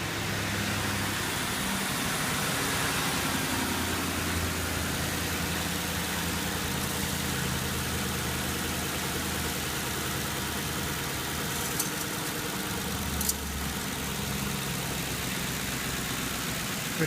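A car engine idling before a dyno test, a steady low rumble that runs on without change, with a couple of faint clicks near the end.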